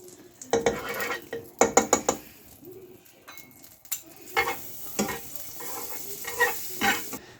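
A tortilla sandwich fries in butter in a pan, with bursts of sizzling and clattering utensil scrapes against the pan, some sharp and loud, over a quieter crackle between them.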